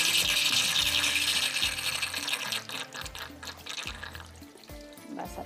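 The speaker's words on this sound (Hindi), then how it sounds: "वेट के ऊपर आपने पानी डालना है ताकि इसकी जो स्टीम है वो निकले" Water is poured over the weight of a pressure cooker on the stove to release its steam, a loud steady hissing rush of water and steam that gradually eases off.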